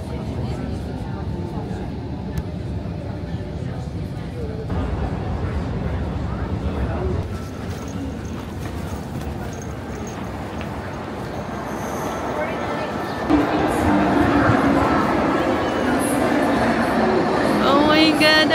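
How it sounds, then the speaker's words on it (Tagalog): Steady rumble inside a moving train in Macau or Hong Kong, a continuous low drone with rising and swelling motion noise, while people chat nearby throughout. "dito tayo sa train"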